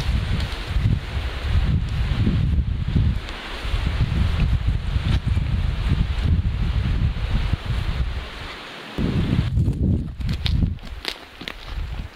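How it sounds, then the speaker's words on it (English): Strong wind blows outdoors in frigid weather, buffeting the microphone in loud, continuous gusts with rustling and crunching footsteps throughout. "Hopefully you can hear me over the wind"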